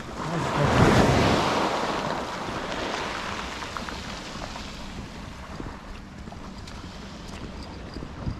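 Rough sea surf breaks along the promenade between Larne and the Black Arch, with one loud wave crash early, then a steady wash of water and wind fading at moderate distance.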